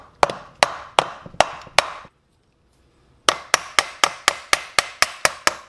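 A rolled-plastic hammer strikes a seized top end on a Honda XL185s engine: five sharp, evenly spaced blows, a short silence, then a quicker run of about ten more, all close and crisp.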